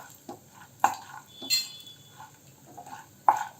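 A spoon scrapes and clinks against a pan while chana dal is sautéed for kara kuzhi paniyaram, a handful of sharp metallic knocks spaced irregularly over a faint background hiss.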